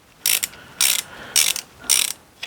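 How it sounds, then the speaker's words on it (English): A hand ratchet tightening a bolt on an LS engine, heard as four quick, close clicking bursts in a steady rhythm, each a short rattle of pawl clicks, with no talking. "torque the bolt down"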